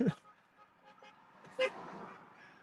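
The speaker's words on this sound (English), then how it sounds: "People are honking by and showing thumbs up to us." Horns from cars passing a slow-rolling street rally in Calgary: one short toot right at the start and a second brief honk a moment later, over quiet traffic background.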